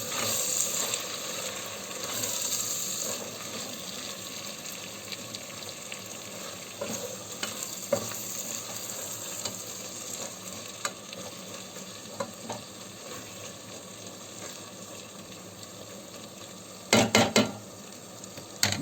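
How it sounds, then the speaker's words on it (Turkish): Pea stew with red pepper flakes stirred in a pot, steady sizzling and soft scraping, with a few clinks of a spoon against the pot and a louder clatter near the end. "güzelce karıştırıyorum."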